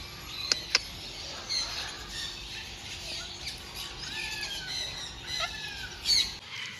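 Birds squawk in an aviary in Shirdi, with scattered short calls and squeals at moderate distance over a steady background hum, plus a couple of sharp knocks early on.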